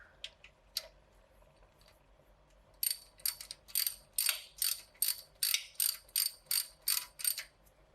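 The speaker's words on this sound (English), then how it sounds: "Tighten this one up just a little bit up top" A ratchet tightens a sway bar end link bolt on an Integra GS-R with a short socket, a run of about a dozen crisp, evenly spaced clicking strokes, close and clear after a quiet start.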